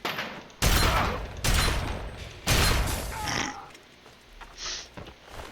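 Gunfire in a video game: a few loud, close, booming bursts of shots, each trailing off. Brief higher electronic game sounds come in between, and no one speaks.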